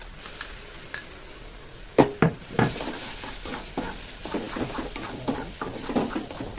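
Ground pea lentil paste going into a hot pan of oil for a Bengali potol dorma filling, with a sharp hiss and sizzle followed by steady stirring scrapes and soft clatter from the utensil, near and clear.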